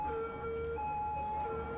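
Ambulance siren from the Cities: Skylines city-building game, a steady wailing tone held over a dense background hum of city ambience, moderately loud and continuous with no talk.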